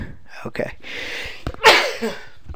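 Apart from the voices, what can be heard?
sneeze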